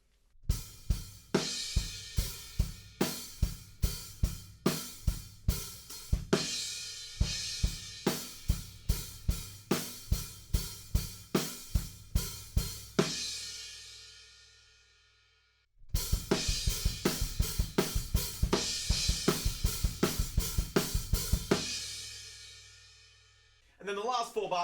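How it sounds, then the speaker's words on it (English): A drum kit plays the groove from a rock song, with the crash cymbal entering on beat 2 alongside the snare. Steady, evenly spaced hits carry cymbal wash in two long passages split by a short pause. "we're going to bring it in on beat 2 with the snare drum,"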